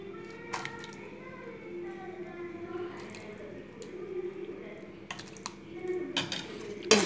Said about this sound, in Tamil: இப்போ மசாலா ஊற்றுறோம்.